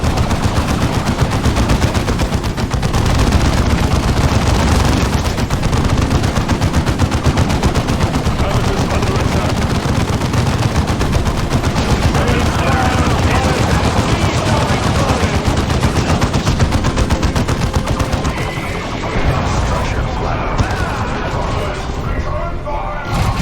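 Dense, continuous gunfire and machine-gun bursts from the Warhammer 40,000 strategy game Dawn of War 2, with booming explosions and shouted voices mixed into a loud, relentless battle din that thins slightly near the end.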